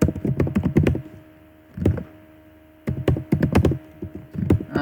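Typing on a computer keyboard, entering a short line of text into a chart, with rapid close clicky keystrokes in three bursts separated by brief pauses, no talking.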